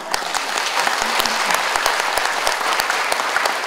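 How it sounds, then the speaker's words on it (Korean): Steady, dense applause from a lecture audience honoring Korean War veterans, many hands clapping together at moderate loudness for several seconds without speech. "이분들한테 박수를 보내주십시오"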